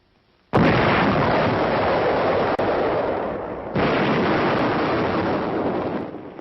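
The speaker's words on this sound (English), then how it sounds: "the gunner pushes the firing button" The Little David 914 mm mortar firing, a sudden massive blast followed by a long roaring rumble with a second heavy boom partway through, loud and distant-sounding with a clipped, old-film quality.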